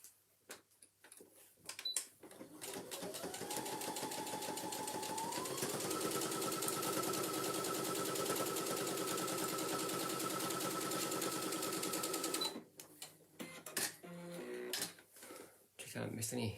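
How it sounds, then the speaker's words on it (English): Sewing machine stitching a handbag, running in one long steady burst with the motor pitch climbing as it speeds up, then stopping and giving way to a few short bursts and handling clicks; quiet and close. "I'm gonna sew this one."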